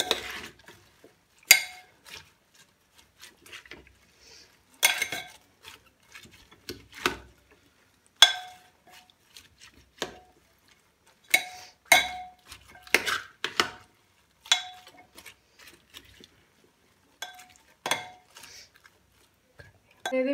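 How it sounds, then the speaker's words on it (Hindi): A spoon clanks and scrapes in a metal pot while mixing pav bhaji ingredients with turmeric and chili, in uneven bursts of sharp clinks separated by quiet gaps. "हुण इन्हां नूं आपां सारियां चीज़ां नूं चंगी तरह मिक्स कर लैंदे हां।"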